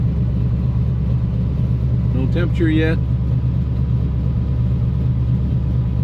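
A cold Mustang engine idles with a steady low rumble throughout, while someone speaks briefly partway through.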